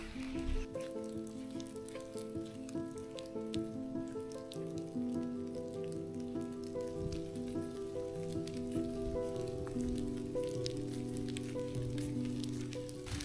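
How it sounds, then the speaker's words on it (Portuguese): Steady rain falls through a forest in Sintra, a dense continuous patter on leaves and ground, moderately loud and unbroken, with no voices. "Começou a chover novamente."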